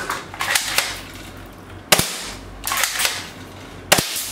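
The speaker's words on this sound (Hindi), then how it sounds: "आपको फायर करके दिखा रहा हूं" An air rifle fires twice, each shot a sharp, loud close crack a couple of seconds apart, surrounded by softer clicks and handling noise.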